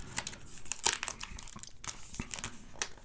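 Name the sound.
peeling the seal off a Samsung Galaxy Z Flip5 box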